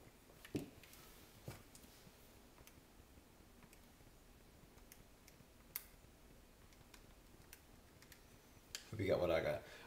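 A few faint, sparse taps on a calculator keypad sound against a quiet background, spaced several seconds apart, before a louder rustling burst near the end.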